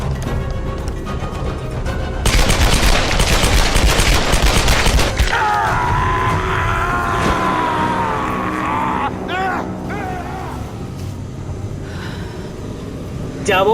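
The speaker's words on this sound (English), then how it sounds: "Double pistols. Akimbo, baby!" Rapid gunfire from dual pistols in the Tomb Raider video game, a loud dense burst of shots lasting several seconds, followed by mechanical game sounds and music-like tones.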